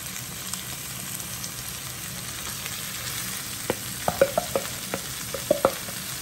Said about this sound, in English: We're gonna stir this up as you see the hot links is getting nice and good and everything.